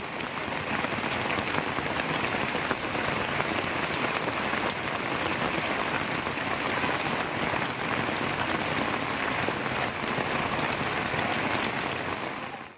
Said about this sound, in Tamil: ஒரு மணி நேரத்திற்கு மேலாக பலத்த காற்றுடன் கனமழை கொட்டியது